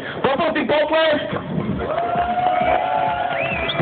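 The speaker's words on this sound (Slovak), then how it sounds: "Poprosím potlesk!" A crowd at a jewellery prize draw in Donovaly cheers and whoops loudly for several seconds, with shouting voices blended into the noise.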